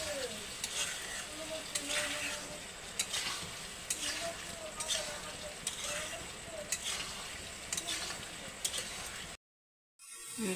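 Green papaya is stir-fried with ground spices in a pan for a home-style fish curry, with a steady sizzle and a run of repeated scraping strokes from the spatula. Everything briefly cuts out near the end.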